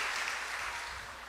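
A church congregation applauds during a Sunday night sermon, a dense, even wash of clapping that fills the room and slowly fades slightly across the short stretch.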